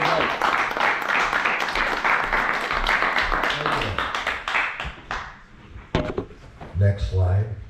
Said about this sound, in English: let's just by a round of applause give a very warm Lansing welcome to Fred Reif